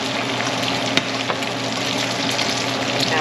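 Eggplant omelette (tortang talong) frying in a pan, a steady, loud sizzle throughout with a couple of small pops or utensil taps.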